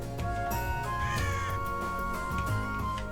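Crows caw in the video game Touhou: Scarlet Curiosity. Harsh calls repeat over a busy layer of game music and effects.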